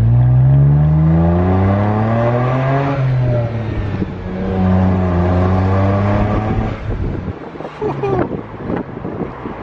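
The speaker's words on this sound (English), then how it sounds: "Try to let me know if you guys could tell when the turbos pull up." A BMW 135i turbocharged engine accelerating hard from inside the car, its loud droning tone rising in pitch through the gears with a brief shift dip, wind noise and turbo whine layered over it.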